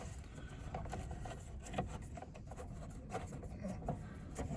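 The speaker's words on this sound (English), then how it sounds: "You just have to take these torque screws out" Torx screws being backed out of the headlight switch on a 1990 Chevrolet C1500, a faint, steady scraping rasp with small clicks of the driver turning, close up and quiet, with no talk.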